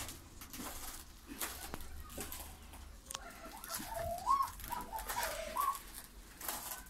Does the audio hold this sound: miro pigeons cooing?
yes